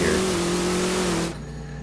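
A Ford Mustang Foxbody on a drag strip pass sends a loud, steady engine drone with a sustained tone that cuts off suddenly near the end, leaving a quieter tail.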